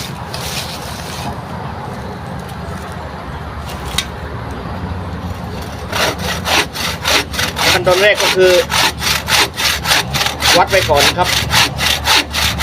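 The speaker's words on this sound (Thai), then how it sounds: "ก็ใช้เลื่อยนะครับเลื่อยเลย" Someone speaks briefly in Thai over background noise, then a hand saw cuts areca palm wood in rapid, rhythmic back-and-forth strokes, loud and close.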